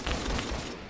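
Sniper rifle fire from a Mosin Nagant in the online shooter Phantom Forces, a dense burst of loud gunfire crackle with a couple of sharp reports over constant game noise, no talk.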